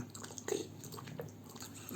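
American Bully dog chewing food, with a few close, soft crunching bites and wet mastication sounds at low level, no talk.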